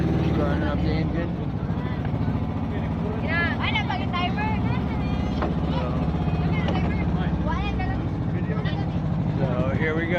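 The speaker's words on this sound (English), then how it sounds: "Starting up the engine." Motorboat engine running on a cloudy day off the Virgin Islands, a steady loud drone that persists throughout, with people talking over it.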